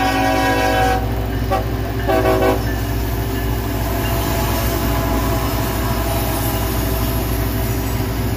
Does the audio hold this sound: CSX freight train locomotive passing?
yes